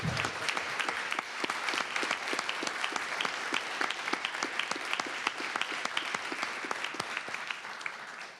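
An audience at a city council meeting applauds a reverend honored for leadership, brisk sustained clapping from many hands, fairly close and even throughout.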